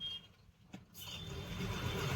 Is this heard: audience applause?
no